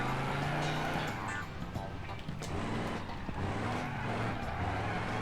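A car drifts in the driving video game BeamNG, its engine droning steadily while the tires squeal and skid through the slide, with a voice talking faintly over it.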